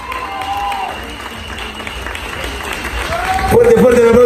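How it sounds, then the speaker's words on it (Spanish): Audience applause at a women's bachata bootcamp in Buenos Aires, a dense crowd clapping under loud talk over a microphone, with music rising near the end. "Fuerte, fuerte el aplauso una vez más, por favor."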